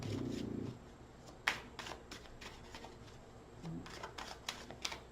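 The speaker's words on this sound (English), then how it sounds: "One more shuffle" Oracle cards are shuffled by hand in quick soft riffling taps and flicks, faint and close, with a brief murmur of voice at the start.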